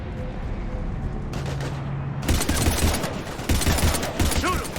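Heavy gunfire in Mass Effect Legendary Edition during a fight with husks, rapid close bursts and volleys that swell loudly after a quieter stretch of combat noise, with voices shouting over it.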